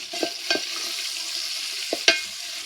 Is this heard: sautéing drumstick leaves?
yes